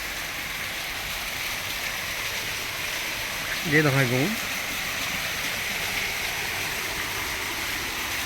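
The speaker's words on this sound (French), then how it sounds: "une cascade" A waterfall in a calm temple garden with flowers and animal statues makes a constant hissing rush of falling water throughout. Someone briefly speaks over it midway.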